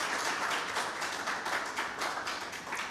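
Applause from an audience at a book launch, a soft, fairly quiet patter of many hands clapping continuously with no voices on top.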